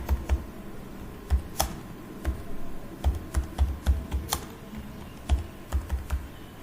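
Computer keyboard typing in Microsoft Word comes as crisp, close key clicks in short irregular bursts with brief pauses, quiet and alone.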